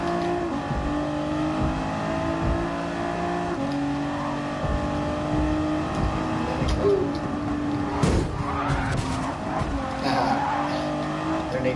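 A 2017 Nissan GT-R NISMO races in a Super Car Race in Gran Turismo Sport on PlayStation 4: a sustained engine drone with shifting revs, tire squeal and a sharp impact midway, loud and continuous, with occasional talk over it.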